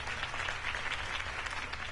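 Steady, dense crowd applause fills the space in the Batman: The Telltale Series video game at a political campaign rally. It is continuous and evenly loud, with no talk over it.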